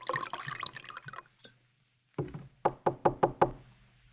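A door is knocked on with a quick series of five crisp raps, preceded by a softer tap, heard close and clear after a stretch of busy background sound.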